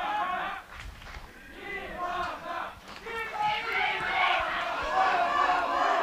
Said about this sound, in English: the cheering behind from the stands